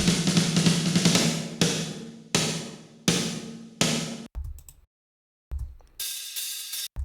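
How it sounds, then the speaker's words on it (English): A raw, unprocessed snare drum from a recreation cracks out in a series of loud, close single hits with ringing decays, separated by short silences, and two softer, muffled strokes in the middle. "this is the raw snare sound"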